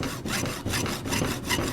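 Hand saw cutting through layered PVC pipe wrapped in tape for an airsoft suppressor, a steady back-and-forth rasping of about six strokes, close and loud, with no voices.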